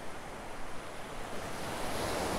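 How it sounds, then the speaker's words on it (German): Moderate ocean waves wash onto the beach at Maspalomas, Gran Canaria on a nearly windless day, a steady broad surf roar that swells slightly toward the end, with no voices. "Ja, die Wellen sind moderat, entsprechend, da es fast windstill ist"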